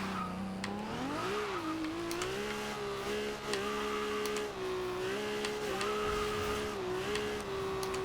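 Simulated 1995 Toyota Supra RZ engine from Forza Horizon 2 revving steadily and loudly, pitch climbing in the first two seconds then holding near the limiter with small repeated dips, continuous with no talk.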